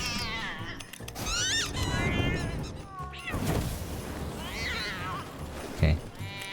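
Cat meows from the video game Don't Die, Minerva!, several short rising calls under game sounds and background music, with a thump near the end.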